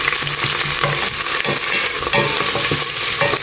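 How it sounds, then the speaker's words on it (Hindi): Curry leaves sizzle and splutter in very hot oil, a loud, steady crackling fry with sharp pops throughout and no talk over it. "आनी हे तेजे बरोबर घालता हांव न्ही थोडीशी करी लीव्स. तेल चड गरम जालेलें न्ही म्हणून बरें उडलें तें."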